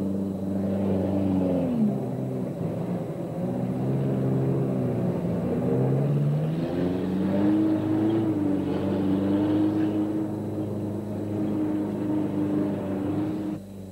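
Small cars drive through a tidal stream in Timor, with a steady, rumbling engine drone that rises and falls in pitch as the vehicles labour across the water, close and continuous.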